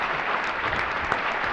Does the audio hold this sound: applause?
yes